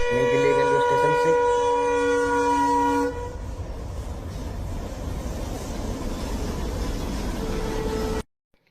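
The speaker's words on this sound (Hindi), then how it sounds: "हमारी गाड़ी चल पड़ी है नई दिल्ली रेलवे स्टेशन से।" A passenger train pulls out of New Delhi railway station. A loud, sustained horn blares for about three seconds, then gives way to the steady, close rumble and clatter of the moving carriages. No one speaks.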